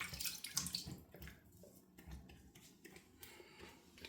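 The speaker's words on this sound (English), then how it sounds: "Give it a quick rinse." A razor rinsed under running tap water during a wet shave, with splashing and gushing water up close, stronger at the start and then a quieter trickle and drips.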